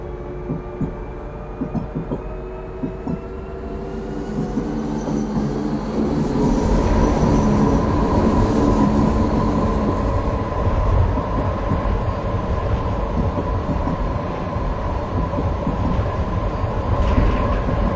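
In the Frankfurt Tram Simulator game, a Frankfurt tram rolls along its rails with a steady rumble that grows louder after a few seconds. Wheel clatter and a high whine run under it for a long, continuous stretch, and no voices are heard.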